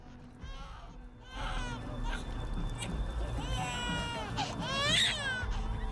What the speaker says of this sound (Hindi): जरा रोते हुए इस बच्चे की चीख सुनिए।